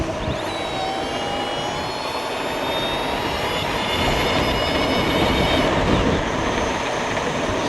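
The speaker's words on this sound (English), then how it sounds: "This is a really sweet motor." A CYC Photon Pro e-bike motor runs with a steady high electric whine that climbs slightly over time, heard close and continuous beneath a wash of rushing wind and road noise, with no voices.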